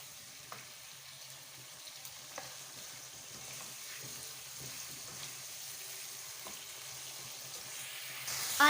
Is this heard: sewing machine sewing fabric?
no